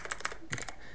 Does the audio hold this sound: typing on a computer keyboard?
yes